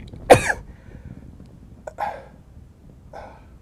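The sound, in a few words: sneeze that sounds like a cough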